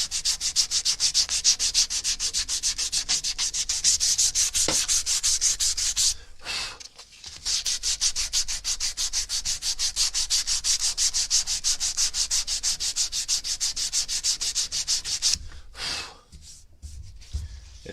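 A worn knifemaking grinder with loose bearings works a knife blade, producing a loud, continuous abrasive rasp with two brief breaks where the blade is lifted away.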